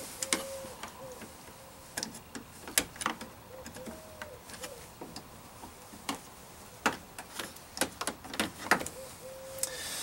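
Plastic bumper fasteners on a Subaru Outback pop out one after another with a small trim tool, giving sharp scattered clicks and snaps at close range in an otherwise quiet space.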